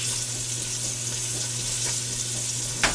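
Trout sizzling in a Lodge 12-inch cast iron frying pan, a steady, bright crackling hiss with a low hum underneath and a small clink near the end.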